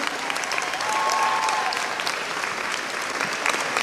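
Steady applause from an audience fills the whole stretch, dense and even clapping of a crowd at a live event, fairly loud and continuous without voices on top.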